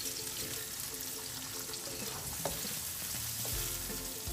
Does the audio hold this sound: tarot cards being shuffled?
no